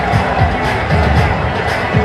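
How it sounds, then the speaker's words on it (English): A cricket crowd, with Indian supporters prominent, roars and cheers after a brilliant catch, a loud continuous wash of massed voices filling the stadium. "That got the crowd going, the Indian side of it."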